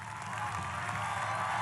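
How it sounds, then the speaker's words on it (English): A rally crowd cheers and applauds in a steady, continuous roar heard from a distance, quite faint overall. "What are they even cheering about?"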